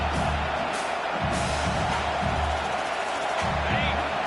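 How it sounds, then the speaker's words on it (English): A steady, loud roar of stadium crowd fills an NCAA football video game featuring TCU vs Alabama, a dense continuous wash of cheering with no distinct breaks. "this crowd is making it miserable on this offense"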